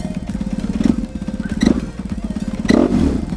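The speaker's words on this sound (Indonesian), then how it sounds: "Kalau motor ini gua geber, motornya akan goyang-goyang." BMW R 1150 GS boxer-twin motorcycle engine idles with a loping, pulsing beat, then is blipped three times in quick rough revs, loud and close, with no talking over it.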